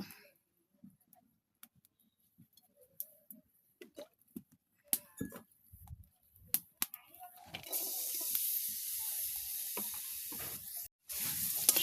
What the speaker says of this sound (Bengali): কড়াইয়ে তেল দিয়ে পেঁয়াজ আর মরিচ ভেজে নিব